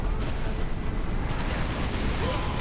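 Heavy cannon fire in the video game Space Marine rumbles in a dense, continuous barrage of booming blasts, loud and close, with a voice partly buried beneath the gunfire.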